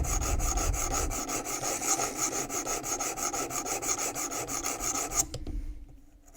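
A knife blade is stroked against the abrasive stone of a WorkSharp Precision Adjust sharpener in quick, steady rasping passes that run evenly for about five seconds and then stop abruptly.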